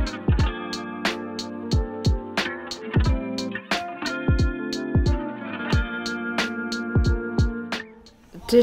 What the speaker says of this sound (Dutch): Ja, je hoort de tv op de achtergrond.